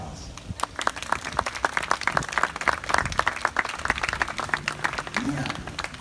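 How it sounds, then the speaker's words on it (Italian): Applause from an audience at a wedding villa near Milan, a steady patter of many hands clapping for several seconds with voices murmuring underneath. "a cui facciamo un applauso."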